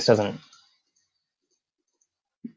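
A computer mouse clicks once, short and close, near the end while someone works in Simmetri animation software; brief speech opens the moment, followed by silence.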